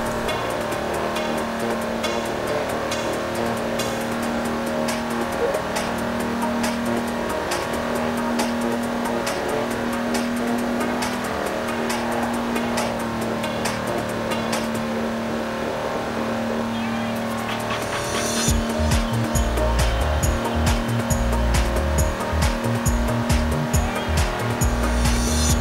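A 1953 Chevy Corvette in Forza Horizon 4 holding a steady loud engine drone near top speed, with rhythmic ticking, then a sudden lift and rough, sputtering revs with tire noise near the end, and no talk.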